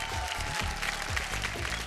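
Studio audience applauding to welcome a quarter-final contestant, Sharda Mukhiya of Ranchi, on the Bhojpuri TV game show Big Memsaab; steady, dense clapping throughout with background music, no talk.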